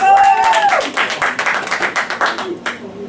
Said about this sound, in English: I want us to please give him a round of applause